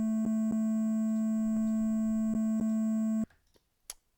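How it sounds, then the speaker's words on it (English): Synthesized bass line built from triangle waves, a steady pure tone with evenly spaced rhythmic pulses that stops abruptly near the end, followed by near silence. "So here we have the bass with triangle waves."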